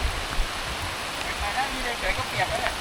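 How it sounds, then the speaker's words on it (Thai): Steady heavy rain hissing across the whole span, a dense wash of drops with no pauses, loud and close. "ดูข้างหน้าเราครับ ฝนตกหนักมาก"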